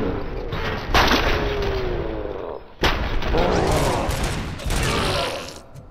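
Gunfire in the shooter game Robocop Rogue City, a dense run of shots and impacts with layered game effects that breaks off briefly and resumes loud and close, with no talk.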